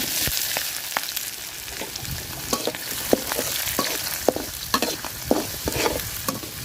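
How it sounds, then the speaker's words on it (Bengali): Chopped onions sizzle and crackle in hot oil with cardamom, cinnamon and bay leaf, with repeated scraping and clinking of a spoon stirring the pan. "পেঁয়াজটা লাল লাল করে ভাজা নিছি"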